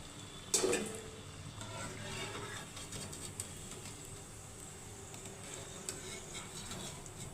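Small Telugu sweet dough fritters with curry leaves bubble and sizzle in hot oil, a steady close fry with a sharp clatter near the start and occasional light utensil knocks.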